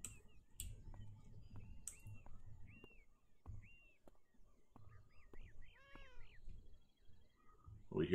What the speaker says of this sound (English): We hear the kitty